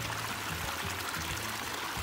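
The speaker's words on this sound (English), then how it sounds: "See where all this water's coming from" Mountain water trickling down beside a hiking trail up toward a peak, a soft, steady stream burble throughout, fairly quiet and alone.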